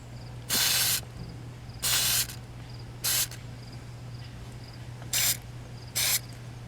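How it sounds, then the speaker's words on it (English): A spray can of rust converter is sprayed onto rusted car bodywork in five short hissing bursts of uneven length. The bursts sound loud and close, with a steady low hum running underneath. "So I'm just going to spray a bit of this. This converts the rust to something that you can paint over."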